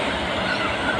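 A train passing near a hotel in Yangon, Myanmar, a continuous loud rumbling roar of rolling rail cars close by.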